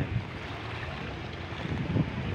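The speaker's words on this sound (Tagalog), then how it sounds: "lalaki nga ng alon" Wind and big waves churn on Taal Lake, a continuous rough rushing wash with gusty buffeting on the microphone and a couple of heavier surges near the end.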